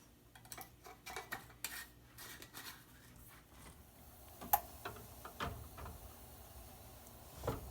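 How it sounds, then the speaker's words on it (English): Lids and rings going onto jars of beef stew before pressure canning: scattered light metallic clicks and taps, some sharper clinks, at close range in a quiet kitchen, with no talking. "now we are just putting on the lids and rings and getting ready to get them in the pressure canner"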